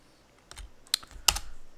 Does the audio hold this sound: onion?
no